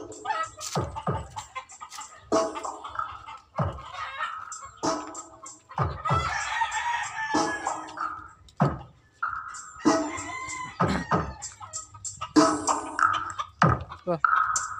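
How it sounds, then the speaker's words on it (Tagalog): A rooster crows and clucks through loud, bass-heavy playback from a pair of Joson Neo speakers in a Bullet mid-high 12-inch box, with repeated bursts across the clip and a voice talking between them. "Yung manok."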